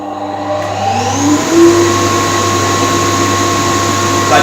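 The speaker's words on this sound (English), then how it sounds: "I'll turn this extractor on and hopefully over the noise you'll be able to hear the air pulling my hand down onto the plate here." A cyclone dust collector extractor runs with a loud, steady roaring drone, its airflow pitch shifting slightly early on before settling into a constant whine close by.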